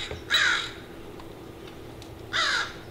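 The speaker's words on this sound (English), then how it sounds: "The crows seem very disapproving of your progress." Crows cawing outdoors, two loud harsh caws about two seconds apart over a quiet background hum, with no talking.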